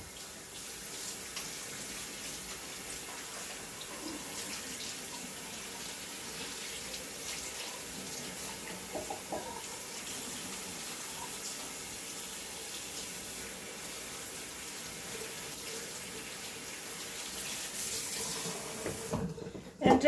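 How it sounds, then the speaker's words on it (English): Tap water runs steadily into a kitchen sink as hands are washed, a continuous even splashing rush that lasts throughout and stops abruptly at the end. "let me wash my hands and then I'll show you this before I put it in the oven"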